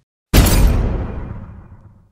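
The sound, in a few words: explosion sound effect in audio drama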